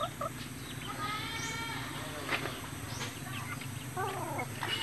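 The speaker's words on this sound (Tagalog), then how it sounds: "At dalawang tandang na labuyo." Red junglefowl roosters and hens kept in a backyard flock give soft clucks and short calls, faint and scattered over a steady, noisy outdoor hum.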